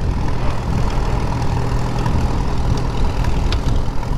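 A 1939 Farmall H tractor engine running in second gear, a loud, steady low rumble close by with an even, throbbing chug throughout and no talking.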